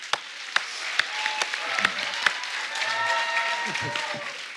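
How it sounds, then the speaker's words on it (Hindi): Studio audience applause on a Hindi comedy talk show as an actor-director is welcomed: a dense wash of clapping from a crowd, with sharper individual claps popping out and a voice faintly underneath. "आप सबकी जोरदार तालियों के बीच में स्वागत करना चाहूंगा"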